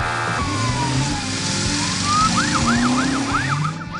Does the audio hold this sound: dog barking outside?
no